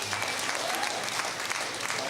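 An audience breaks into even, sustained applause, a broad wash of many hands clapping at moderate volume throughout.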